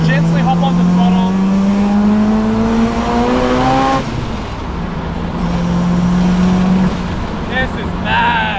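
A big-turbo bridgeport rotary engine in a Mazda RX4 climbs in pitch under throttle, then drops off abruptly at a gear change and pulls again, loud and close inside the car while the driver talks.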